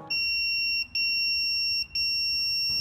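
An electronic pager sounds in a hospital with a steady, piercing high beep held for close to a second at a time, three times in a row with short gaps, loud and close with no voices.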